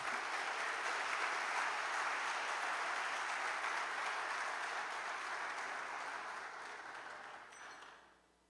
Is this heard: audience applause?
yes